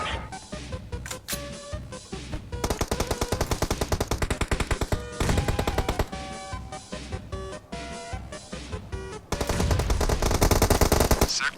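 Rapid automatic gunfire in the PUBG Mobile video game comes in dense, loud bursts of rattling shots, broken by short pauses and stretching across the whole stretch with no talk.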